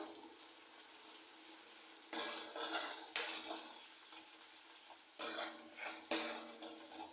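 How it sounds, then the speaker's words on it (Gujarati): Garlic chili is stirred into urad dal in a pot, with quiet simmering, then bursts of louder scraping and sizzling as the spoon moves, separated by a short lull. "હવે સ્વાદ પ્રમાણે લસણવાળું મરચું બધું મિક્સ કરી દઉં"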